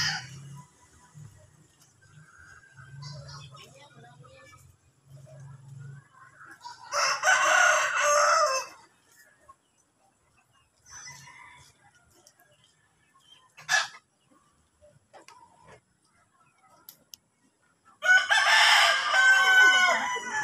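Chickens being fed crow and cluck in scattered bursts, with two loud drawn-out rooster crows standing out between softer clucks and quiet stretches.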